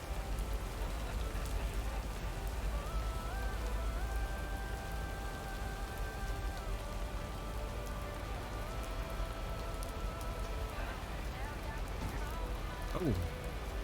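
Steady rain falls in an 80s small-town postal simulator game, a constant dense hiss over background music with tonal lines, with a brief sweeping sound near the end.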